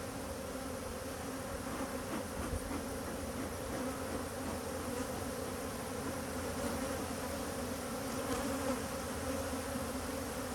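Dense, steady buzzing of honey bees at a hive where a queen is being replaced, a continuous close drone of many wings with no pauses across the whole stretch.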